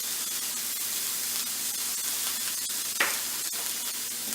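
Pork loin sears in a hot pan with a continuous bright sizzle and spitting hiss, steady throughout, with a few small pops and crackles and no talk.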